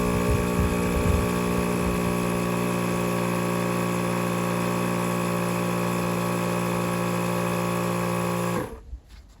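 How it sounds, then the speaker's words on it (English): An air compressor runs while inflating a tyre to 17 psi, a loud, steady motor hum with a constant tonal drone that holds unchanged, then cuts off abruptly near the end. "I put the compressor on the valve, spin it tight so it doesn't come loose, and I'll turn the compressor on"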